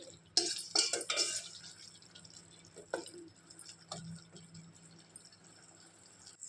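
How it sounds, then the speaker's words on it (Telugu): A spoon stirring tomato and tamarind in a cooking pot for tomato charu, giving a few clinking scrapes against the metal early on and softer wet stirring after, quiet and close, with no speech. "నేను ఇప్పుడు చింతపండు వేసాను. ఇలా మిక్స్ చేస్తున్నాను."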